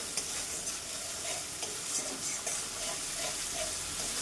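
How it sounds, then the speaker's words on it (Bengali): Spice paste (masala) being sautéed in a pan for a Bengali fish curry gives off a steady, close, dense frying hiss, with faint stirring scrapes running under it throughout. "মশলাটা কষানো হয়ে গেছে আমার"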